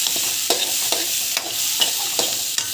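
Urad dal, coconut and other chutney ingredients sauté in a hot pan, giving a steady close sizzle broken by repeated scraping stirs about every half second.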